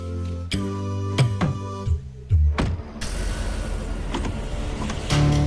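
A car keeps running without stopping, a continuous loud engine rumble building under sharp tonal hits and falling sweeps, then settling into a steady roar near the listener.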